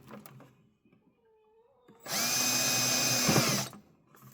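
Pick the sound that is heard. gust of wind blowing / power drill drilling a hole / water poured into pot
power drill drilling a hole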